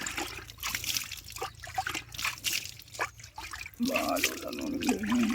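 Water spurts and trickles from a Ford 3600 tractor's front wheel hub during a wheel bearing change, a steady wet hiss with splashy bursts up close that grows louder and denser near the end.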